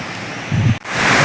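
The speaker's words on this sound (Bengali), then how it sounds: "হঠাৎ করে তুফান ছেড়ে দিয়েছে বন্ধুরা" Sudden storm wind gusting hard outdoors near open water, a loud roaring buffet that briefly drops out and surges back, with no voices.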